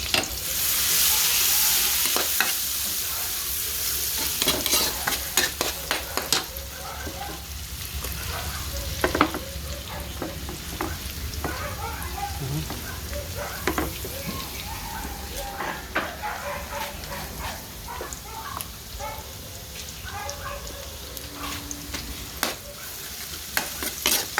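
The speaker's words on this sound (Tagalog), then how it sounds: "Gigisa na natin." Chicken and vegetables sauté in a pan, a steady crackling sizzle with scattered sharp clicks and scrapes of stirring, loud at first and then settling to an even hiss.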